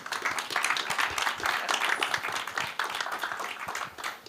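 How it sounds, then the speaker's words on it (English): Audience applause at the close of a talk on open source as a business, dense steady clapping filling the room without pause, fairly loud and even throughout. "And big applause."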